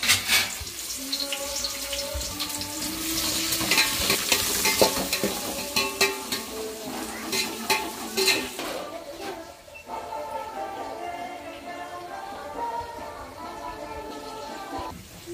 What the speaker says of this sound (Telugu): నూనె అయితే బాగా వేడైంది కదండి, ఉల్లిపాయలు వేసుకున్నాం.